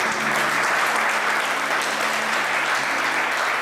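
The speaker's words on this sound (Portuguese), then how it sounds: "Você pode aplaudir o Senhor por isso?" Church congregation applauding in praise during a worship service, a dense, steady wash of many hands clapping that fills the whole stretch at even loudness, with a low hum or held tone underneath.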